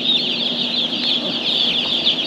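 Broiler chicks in an organic brooding barn cheep continuously in a dense, high-pitched chorus over a faint steady fan hum, a flock heard close and indoors.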